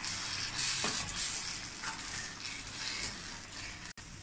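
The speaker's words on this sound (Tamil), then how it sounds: "மாங்காவும் அந்த பேஸ்டும் நல்லா சேர்ற மாதிரி கலந்து விட்டுக்கோங்க" Raw mango mixed with ground paste being stirred in a frying pan over medium flame, a steady sizzle with scraping spoon strokes throughout, close and alone without talk.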